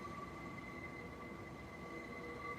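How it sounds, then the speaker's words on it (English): A train approaching a small mountain station in Japan, a steady low rumble with thin sustained squealing tones above it, continuous and moderately distant, with no voices. "All right, there is a train coming"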